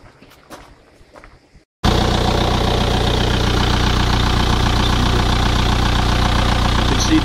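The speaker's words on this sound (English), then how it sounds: "I'm just going to start the engine up" After a few quiet seconds of faint background noise, a truck engine fitted with an HHO generator abruptly fires up and settles into a loud, steady, rumbling idle.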